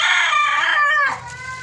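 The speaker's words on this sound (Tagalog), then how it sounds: "Ingay naman itong manok na to." A chicken lets out a loud, drawn-out squawking call up close, dropping off abruptly into quieter background noise.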